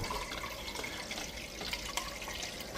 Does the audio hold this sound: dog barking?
no